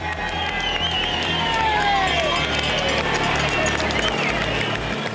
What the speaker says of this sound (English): The crowd of Ca del Poggio welcomes the peloton.